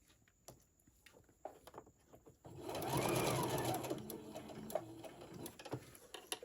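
Sewing machine stitching straight over ribbon on a stuffed fabric gingerbread ornament, a quiet run of rapid mechanical whirring for about two seconds between soft handling clicks and taps, no talk.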